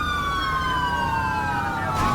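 A police car siren in the video game GTA V with the LSPDFR mod wails loudly and continuously, sweeping steadily downward in pitch, with no voices over it.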